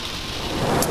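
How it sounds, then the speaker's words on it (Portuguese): Heavy thunderstorm rain with strong gusts and nearby lightning: a dense, steady hiss of downpour with low rumbling underneath, continuous and fairly loud through the short stretch. "trovoada com relâmpagos a cair relativamente perto de nós e também com muita chuva"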